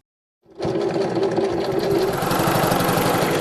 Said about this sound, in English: The sewing machine has been working overtime at the Dilk home in Phoenix.